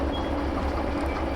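A train slowing to a stop in the railway simulator Derail Valley, a steady close low rumble with a heavy bass drone that holds even and unbroken throughout.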